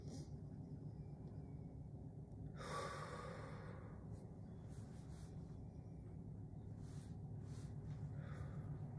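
Slow, deep breaths are drawn in and let out softly and close by, with one fuller inhale standing out against a faint steady background hum.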